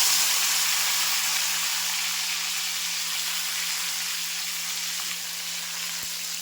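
Tomatoes sizzle in a cumin and mustard seed tempering for pumpkin curry, giving a steady, close frying hiss that fades slightly over time, with a faint low hum underneath and no voices.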